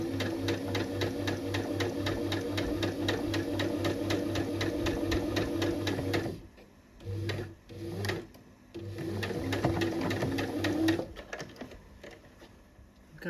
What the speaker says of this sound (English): when you turn it for the second corner to sew down the second side